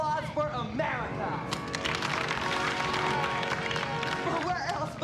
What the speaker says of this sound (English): Could I please have a round of applause for America?